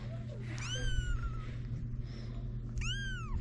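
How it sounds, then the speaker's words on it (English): Small kittens meow with high, rising-and-falling calls, one cluster early and another near the end, close by over a steady low background hum, with a faint voice in the background. "Cute, these little kittens."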